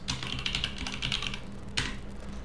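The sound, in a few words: typing on a computer keyboard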